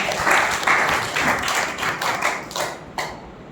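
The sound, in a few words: audience clapping at a seminar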